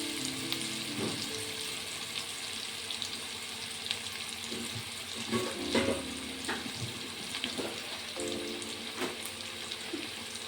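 Curry leaves fry in a pan with a steady crackling sizzle, close and moderately loud, broken by a few scraping stirs and light clatters, with no talk.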